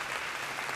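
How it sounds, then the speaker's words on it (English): Steady clapping from a seated audience at a memorial gathering, a dense and even wash of applause throughout the brief moment, fairly distant and without voices on top. "give a big applause to Alicia and other family members"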